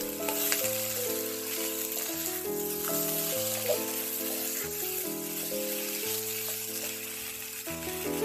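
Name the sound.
stir-frying celery and tofu in a wok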